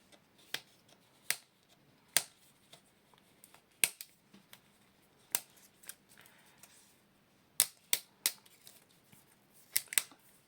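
Purple paper wrapper of a Mini Brands Disney toy being torn open by hand, a series of sharp, close crackling rips and crinkles in irregular bursts with quiet pauses between.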